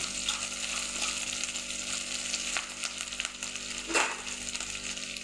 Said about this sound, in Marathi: शेंगदाण्याचा कूट घेतलेलं आहे तो टाकणार आहे हे आपण छान असं परतवून घेऊ